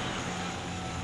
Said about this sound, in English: He's got a drone.